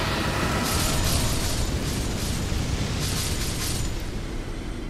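A fire attack erupts during an Elden Ring boss fight against a giant deer, producing a continuous roaring, crackling blast of flame with bright hissing bursts on top, loud and close.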